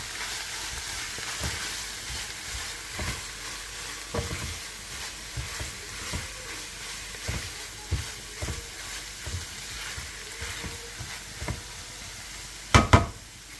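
Ground meat with tomato paste frying in a pan for shepherd's pie: a continuous sizzle with regular scraping stir strokes, ending in a sharper clatter of utensil against the pan.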